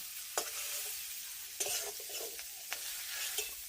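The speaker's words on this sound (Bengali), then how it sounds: "চিংড়ি মাছ ভাজা আমার হয়ে গেছে, এবার আমি এগুলো তুলে নেব।" Steady hiss of shrimp frying in a pan, with a few sharp scrapes and knocks of a utensil stirring.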